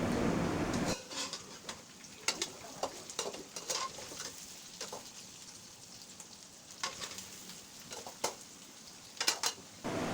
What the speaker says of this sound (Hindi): अब इसमें ऐड करेंगे हम बारीक कुटी हुई हरी मिर्चें